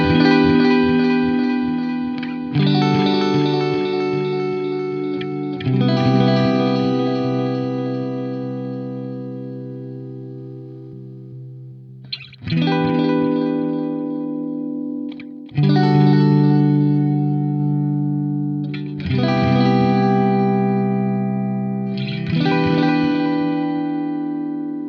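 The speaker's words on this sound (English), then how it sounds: "you can hear that the delay repeats on the Strymon are a little less pronounced overall" Electric guitar chords ring through Strymon Timeline and Boss DD-500 delay pedals set to about 50% feedback, each strum followed by trailing echo repeats that fade before the next, in several separate phrases with no talking.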